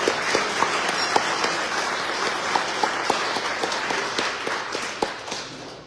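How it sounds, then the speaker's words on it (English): Sustained applause from a gala audience, a steady wash of clapping with a few sharper individual claps standing out near the front. "let's give them another round of applause"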